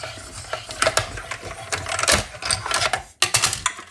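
A hand-cranked cut and emboss machine grinds paper and tape through its rollers at a craft table, a dense run of close ratcheting clicks and mechanical rattles, briefly pausing before the crank resumes.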